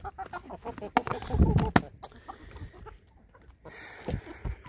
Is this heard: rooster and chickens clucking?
yes